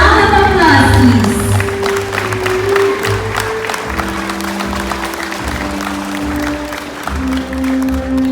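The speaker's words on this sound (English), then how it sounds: "A round of applause, please." Applause from the audience at a high school commencement ceremony, sustained clapping that opens loud with some cheering and continues steadily while a low sustained tone plays beneath.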